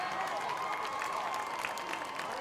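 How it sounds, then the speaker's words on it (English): A crowd at a high school homecoming celebration applauds the newly crowned king and queen, a dense wash of clapping with faint cheering heard from within the audience. "A big round of applause for our King and Queen and the homecoming court."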